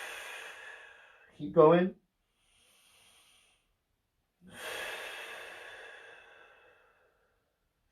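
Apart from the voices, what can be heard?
deep breathing in during a stretch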